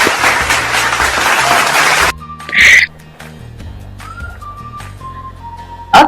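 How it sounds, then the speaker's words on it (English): Audience clapping for a panelist at a school event, a short burst of lively applause that cuts off abruptly, followed by quieter room noise and a brief whistle-like sound. "Maybe clap to Mr. G."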